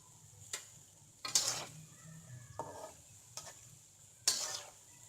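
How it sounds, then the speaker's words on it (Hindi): Potato pakoras deep-fry in hot oil over a full flame, a soft, steady sizzle under intermittent scrapes and clicks of stirring close by. "ये देखिए, इस तरह सुनहरी होने तक हमें तलना है।"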